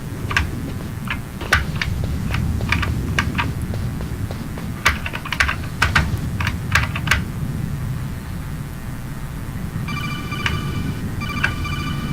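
Keys on a computer keyboard clatter in quick, uneven bursts of sharp clicks, close and fairly loud, with a short repeating electronic ring pattern appearing near the end.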